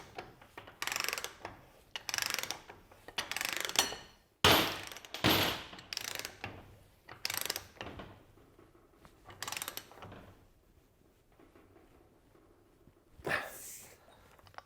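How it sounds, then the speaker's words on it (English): Socket and bar running a nut up onto a steering pitman arm: repeated metallic ratcheting bursts of clicks at close range, spaced by pauses and gradually fading. "using a suitable socket and bar, you're going to run the nut up first until it actually makes contact with the pitman arm."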